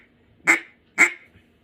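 A Matt Pierce small bore mallard duck call blown twice, two short sharp quacks about half a second apart, close and clear against a quiet background.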